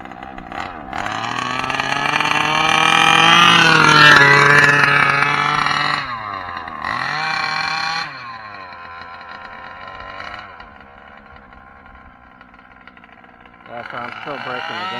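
Losi 5ive-B gas RC car with its small engine running rich, buzzing loudly as it revs and drops off several times, then idles quietly before picking up again, with people talking nearby.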